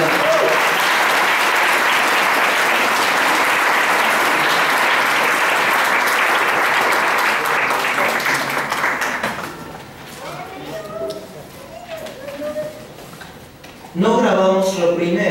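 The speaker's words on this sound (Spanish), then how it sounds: "denle un fuerte aplauso" A church congregation bursts into loud sustained applause of welcome that fills the room for about nine seconds, then thins out into scattered claps under murmured talk before a voice speaks up.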